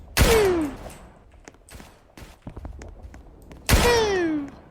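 Two sharp, loud gunshot blasts from a Roblox shooting game, one near the start and one after a few seconds, each followed by a falling ringing tail, with quieter clicks and thuds between them.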